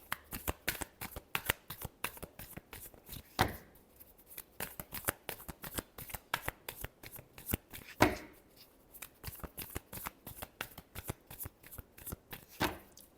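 A deck of tarot cards is shuffled in quick, crisp bursts of snapping and riffling, close and loud. Brief pauses break the rhythm, and two sharper riffle-and-bridge cascades stand out.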